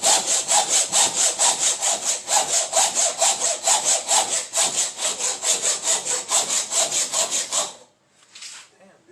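A hacksaw saws steadily through a carburetor from a 1976 Yamaha XS 360, loud close strokes in a fast even rhythm of roughly thirty passes, stopping near the end with a brief softer scrape.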